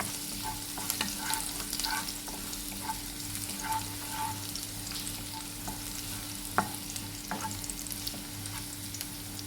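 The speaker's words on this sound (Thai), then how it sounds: "เรียวกระเทียมให้หอมนะคะ" Garlic sizzles steadily as it is stir-fried in a hot pan, with soft scraping stirs and small crackles over a constant frying hiss.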